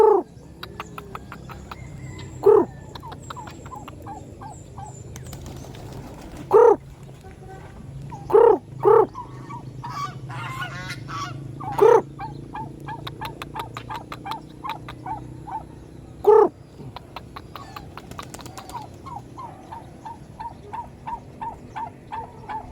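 Ducks quack in sharp, loud bursts scattered over a low background of noise at a duck farm, with many fainter calls chattering in between.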